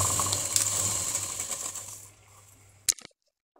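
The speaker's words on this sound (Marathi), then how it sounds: "अशी पूर्ण पट्टीला टिप मारून घ्यायचे." A sewing machine stitches a steady run along the folded edge of a fabric strip. It hums continuously at close range for under three seconds, then stops, followed by a short click.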